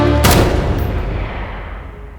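A single loud gunshot cracks out at close range in a tense dramatized scene, its report decaying into a long rumbling echo.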